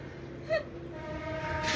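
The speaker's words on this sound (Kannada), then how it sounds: "ಟ್ರೈನ್ ಹೊಡುತ್ತೆ, ಟ್ರೈನ್ ಅಲ್ಲ ಬರೀ ಇಂಜನ್ ಅದೇ" A lone train engine sounds its horn, a brief tonal blast followed by a sustained horn note from a locomotive running without carriages, moderately loud against background rumble.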